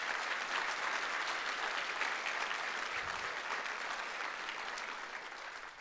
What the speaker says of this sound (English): if everybody could just give a round of applause to our electeds for being here today